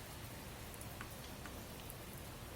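Steady rain falling in the video game Adventures of Fei Duanmu, a soft continuous hiss with occasional faint droplet ticks, quiet and unbroken throughout.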